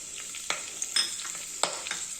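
Mustard seeds, cumin and curry leaves frying in cooking oil in a pan, with a steady soft sizzle broken by a few sharp stirring scrapes and pops, close and moderately quiet.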